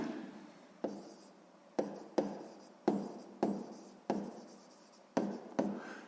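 A pen scratches out a sixth-grade math solution on paper, a series of about nine quick strokes, each starting sharply and trailing off, close and quiet with no talking.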